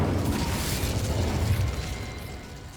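A fiery Incendio spell bursts in Hogwarts Legacy, a loud rushing blast of flame that roars steadily and then tapers slightly over its few seconds, with no voices.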